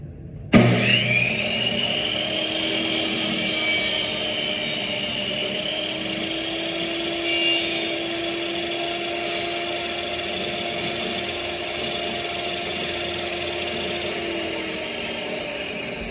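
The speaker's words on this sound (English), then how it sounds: "It'll be fine to push it across the blade, and I'll make a very smooth removal of excess wood." A power saw blade cuts away waste wood for a mortise and tenon joint, spinning up with a sharp onset into a steady, loud whine and hum that holds continuously with slight changes in load.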